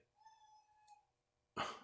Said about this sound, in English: Oh, that was my cat. She says hello